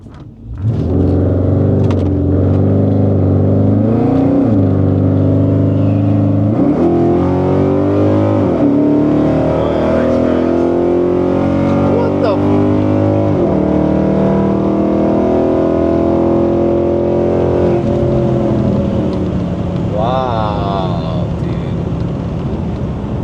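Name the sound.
Chrysler 300 and Elantra N cars roll racing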